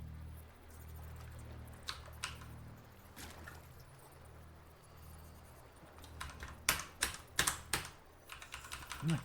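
Typing on a computer keyboard, faint and close, with sparse keystrokes early that build into a quicker cluster of clicks near the end over a low steady hum.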